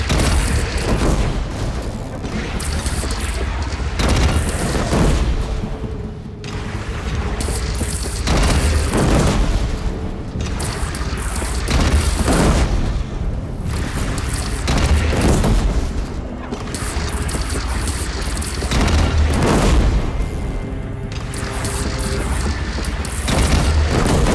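Repeated heavy cannon blasts in the Horizon Zero Dawn video game during a bridge battle with a bandit clan, loud booming impacts every few seconds amid dense, continuous battle noise.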